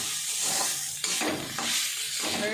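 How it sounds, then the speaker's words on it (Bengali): Banana stem (thor) fries with green chillies in a pan, giving a steady close sizzle broken by several scraping stirring strokes, with no voices. "কাঁচা লঙ্কা রেখে ভেজে নিলেই হয়ে যাবে থোড় ভাজা। নেড়ে নেড়ে একটু নামিয়ে নিতে হবে।"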